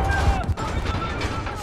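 A breaching charge explodes in Call of Duty Modern Warfare (2019), a loud, dense burst of blast and debris that fills the whole moment up close, with no clear break after it.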